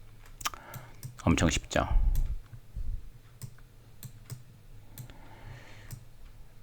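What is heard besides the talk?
computer keyboard and mouse clicking during copy and paste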